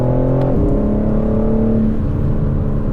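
A sports car, one of a 2024 group of Porsche, McLaren and Aston Martin models on Michelin Pilot Sport 4S tyres, accelerates hard at full throttle; a loud, continuous engine roar climbs in pitch, with a brief shift near the half-second mark.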